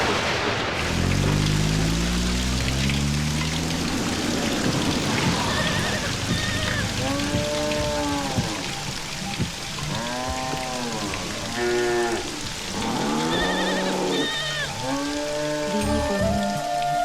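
Steady heavy rain hisses throughout a Malayalam comedy film scene, a dense continuous wash with voices and tonal sounds rising over it at intervals.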